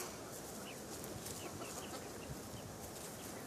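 Chickens clucking in a farm setting, with a few soft, scattered clucks over steady broadband background noise for a few seconds.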